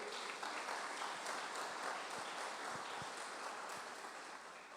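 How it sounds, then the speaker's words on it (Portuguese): Congregation clapping in a church, a steady, dense wash of applause from many hands lasting throughout and fading slightly toward the end, with no talk over it. "As palmas para o Senhor."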